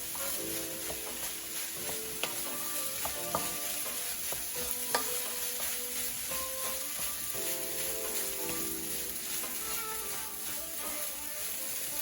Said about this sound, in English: And then now we just try and fry our rice